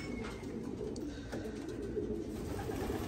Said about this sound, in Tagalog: Alright, so ito yung mga ibon.